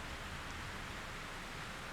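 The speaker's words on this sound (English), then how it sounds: "It's raining again." Steady rain falls in the horror video game Fatal Frame 3: The Tormented, a constant, even hiss of downpour at low level with no talking.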